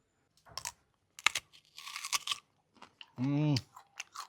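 Someone bites into and chews a crunchy bare apple fruit, giving a few close, sharp crunching bursts spaced a second or so apart, with a brief vocal sound near the end.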